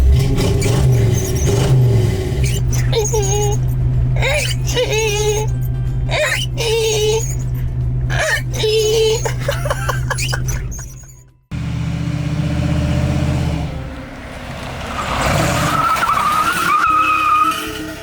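An old Chevy with a 401 engine races and skids, tires squealing and wailing loudly over a roaring engine, with voices talking beneath the noise.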